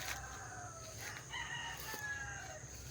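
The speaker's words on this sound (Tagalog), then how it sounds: "Ito yung mga manok ng anak ni Mokang." Roosters crow and chickens cluck at a farm, steady and fairly close, with no talking over them.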